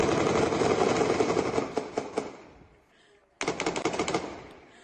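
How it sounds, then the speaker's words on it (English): Recorded AK-47 machine gun fire, two loud rapid bursts of rattling shots separated by a brief pause, sounding harsh and somewhat distant as if captured from a recording. "had what sounds like an AK-47 to kill him"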